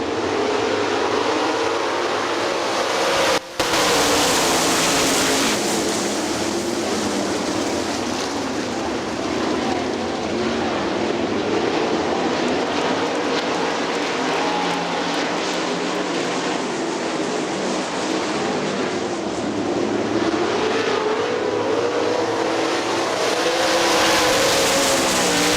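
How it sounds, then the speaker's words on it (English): Sprint cars racing at Hartford Speedway, a pack of engines roaring loudly and continuously at close range for the whole stretch, with a momentary dropout near the start and no talk. "85 Dustin Daggett, field looking good heading into turn 3."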